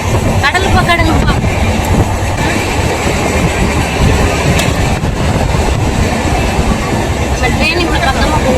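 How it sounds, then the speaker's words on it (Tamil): A passenger train rolls along its rails on a journey from Tamil Nadu to Odisha, a loud, steady rumble with rhythmic wheel clatter heard from inside a carriage, voices faintly mixed in. "நம்ம ட்ரெயின் இப்படி பக்கமாக போகும்."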